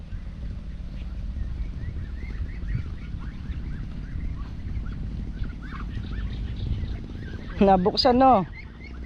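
Ducks in a pen at feeding time, a low busy murmur of birds and movement building to a sudden burst of loud, harsh quacking near the end, with a voice speaking briefly.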